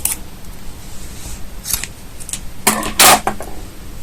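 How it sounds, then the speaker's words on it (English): Scissors snip through yarn at close range, a few short crisp cuts with one louder snip near the end, alone in a quiet room. "and cut the yarn"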